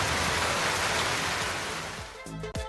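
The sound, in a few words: heavy rain with thunder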